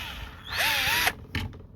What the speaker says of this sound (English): Oops, my drill started walking on me.